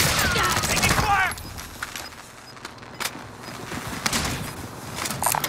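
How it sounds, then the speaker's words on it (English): Gunfire in a battle royale video game: scattered sharp shots and bursts, denser at the start alongside speech, then sparser cracks and rattles, moderately distant and mixed with game noise. "Taking fire!"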